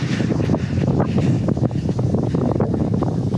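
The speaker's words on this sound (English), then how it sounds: "it's a bit windy" Wind blowing hard outdoors, a loud, continuous low roar buffeting the microphone with uneven gusts throughout.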